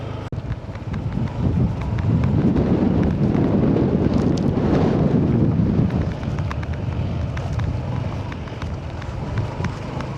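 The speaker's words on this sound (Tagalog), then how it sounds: "Tapos mahangin pa." Steady wind roar while riding a Honda ADV160 motorcycle on a mountain road, a continuous loud rush that swells midway and then eases, with no voices.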